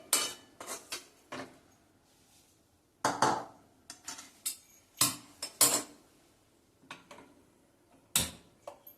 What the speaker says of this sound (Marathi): थोडंसं पातेलं मी इकडच्या गॅसवर शिफ्ट करते